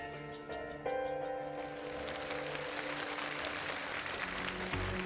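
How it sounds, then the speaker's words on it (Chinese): Contestants and a studio audience at a televised Chinese science quiz show break into loud, sustained applause that starts abruptly after a brief moment and keeps going at an even level to the end. "听到场下选手和观众鼓掌的时候"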